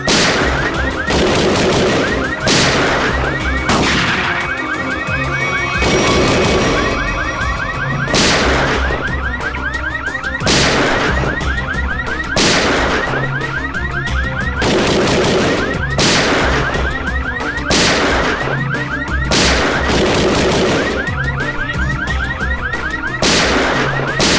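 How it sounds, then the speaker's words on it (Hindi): Sharp gunshots crack out one after another at a steady pace, roughly every two seconds, while a warbling alarm sounds continuously underneath. "ये गोली कहां से चल रही?"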